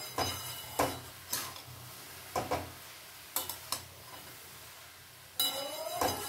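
Chopped bottle gourd is stirred and fried in a pan, with spaced scrapes and clinks of a spatula against the metal over a low steady sizzle, near and fairly quiet, and a longer scraping stir at the end.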